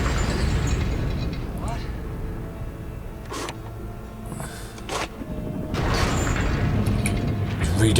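Explosions on a frozen river in a Doctor Who episode, loud booming bursts under a dense, rumbling mix, with sharp broadband blasts standing out amid continuous noise.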